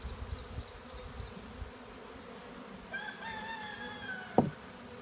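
A large honeybee swarm of roughly ten thousand bees in an insulated space hums steadily throughout, with rooster crowing and other bird calls rising over it partway through.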